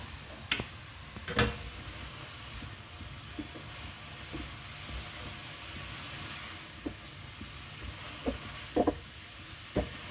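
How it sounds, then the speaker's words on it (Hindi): A small cabbage, shredded for a chicken bread filling, stir-fried in a pan: a low steady sizzle with occasional sharp clicks and taps of the spatula against the pan, a few louder knocks near the start and end. "तकरीबन 2 से 3 मिनट इसको हम भून लेंगे"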